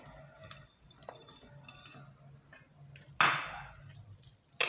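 Cake batter being mixed in a bowl while flour is added a little at a time, giving soft scraping and clinking of a utensil against the bowl, with a louder clatter near the end; no talking.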